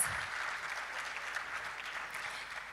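Audience applause at a conference opening session, with steady dense clapping filling the room at an even level throughout.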